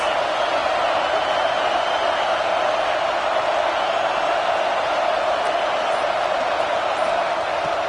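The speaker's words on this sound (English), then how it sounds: "This crowd trying to make life miserable for this offense." Stadium crowd in the College Football 26 video game, a dense, steady roar of many voices holding at a constant loud level for the whole stretch with no breaks.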